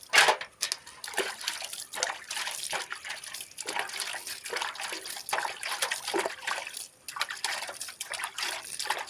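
Water splashes and trickles in uneven bursts onto cassava, close by, with short pauses between pours.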